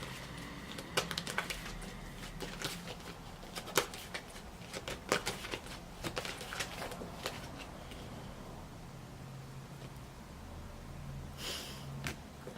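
Gaia tarot cards are shuffled quietly at close range, with a rapid run of soft riffling flicks followed by a calmer stretch of faint handling noise.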